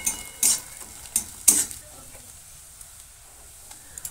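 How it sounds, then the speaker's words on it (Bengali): Chopped onions frying on medium heat with bay leaf in a pan, a soft sizzle broken by several sharp scrapes and clinks of a spatula stirring against the pan, then quieter frying. "পেঁয়াজটা মিডিয়াম আঁচে ভালো করে ভেজে নেব।"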